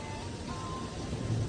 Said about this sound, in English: Oh, that's a lot of rain.